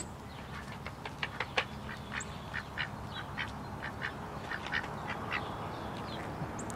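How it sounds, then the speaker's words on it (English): Several ducks, including a big one, quack in a run of short repeated calls at moderate distance over steady outdoor background noise, with no talking. "Got some ducks over here. It's a big duck."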